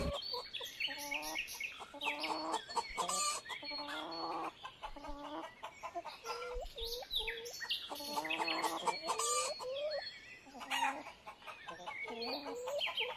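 A hen clucks repeatedly, with rooster-like calls, during a school Founder Day stage performance, with people's voices and stage noise mixed in throughout.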